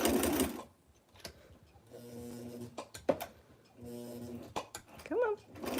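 A sewing machine back stitching a vintage 1990s dress, running in short humming bursts with pauses between them, close up, with faint sounds of handling.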